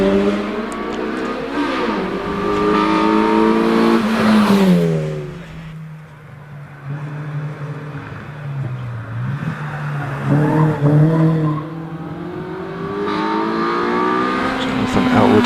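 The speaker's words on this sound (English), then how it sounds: "As Jonathan Elwood continues on up the hill towards Pardon in the Honda Civic." A Honda Civic climbs a hillclimb course at Prescott with its engine rising and falling through gear changes, loud then fading and returning, under a commentator's voice.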